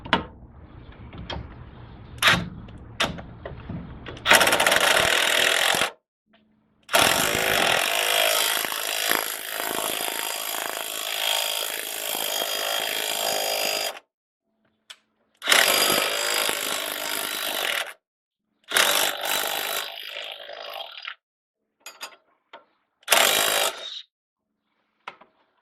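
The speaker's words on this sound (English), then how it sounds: "We have a 10 millimeter socket on this impact, and we have a 21 millimeter wrench" Impact wrench with a 10 mm socket working on the front suspension of a Dodge Charger, Magnum or Chrysler 300, giving several loud, sustained rattling bursts separated by pauses, with short clanks in between.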